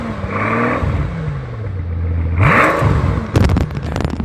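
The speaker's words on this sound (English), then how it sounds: "Let's give it a little tiny rev." A Mercedes AMG engine idles, then gives one quick rev that rises and falls in pitch, followed by a short burst of mechanical clatter close by.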